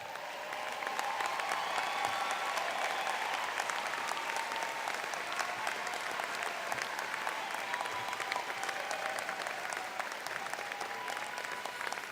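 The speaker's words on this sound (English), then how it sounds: "lots of time for clapping, folks" A large crowd claps at a university commencement ceremony during the awarding of honors, a sustained and even roar of applause that continues unbroken for the full length at a moderate distance.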